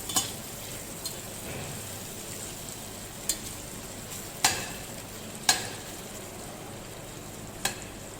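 Potato and cauliflower frying in masala in a pan, a soft steady sizzle broken by several sharp scrapes and clinks as the vegetables are stirred and tossed.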